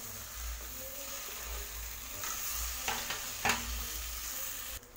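Egg noodles with chopped coriander being tossed in a hot pan, soft stirring and scraping over a continuous gentle sizzle, with a couple of louder utensil knocks near the end, close up.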